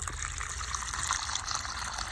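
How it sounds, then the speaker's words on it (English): Hot water from a kitchen faucet is poured into a chicken waterer out in snowy cold, making a steady, close gushing splash with no pauses. "then I just dump water in it."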